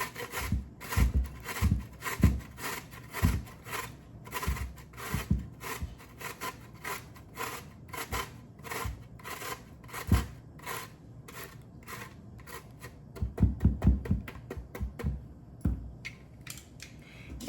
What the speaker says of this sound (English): you're gonna shred your zucchini